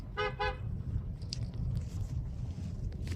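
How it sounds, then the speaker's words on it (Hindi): A vehicle on a village road sounds two short, loud horn toots at the start, followed by the low rumble of traffic and faint bustle. "अरे बाबा गाड़ी आ रहा"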